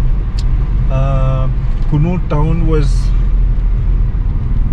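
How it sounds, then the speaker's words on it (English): Constant low rumble of heavy road traffic through a crowded hill town, engines droning close by, with someone speaking over it. "so crowded, there was so much of traffic"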